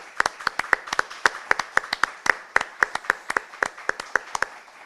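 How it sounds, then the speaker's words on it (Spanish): Applause for a speaker at an international congress on Jesuit missions: a small group clapping in crisp, evenly spaced claps, sharp and close, with no talk over them. "un aplauso para la doctora"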